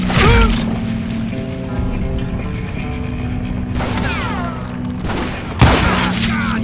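Gunfire in the western shooter game Call of Juarez Gunslinger, loud sharp shots near the start and again late, with mechanical clanks and whirring between them and a game voice briefly speaking.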